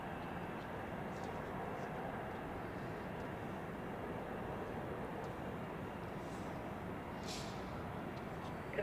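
An airliner taking off from runway 28 at Zurich Airport on a winter day, a steady broad engine roar held at constant loudness throughout, heard from a distance without voices.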